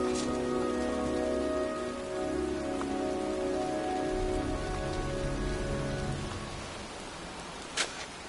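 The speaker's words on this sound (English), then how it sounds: "It's cold. It's raining. I'm standing outside getting soaked." Rain falls steadily on a cold, wet night outdoors, a dense, even hiss that holds at one level throughout, with a single sharp tap near the end and no voices.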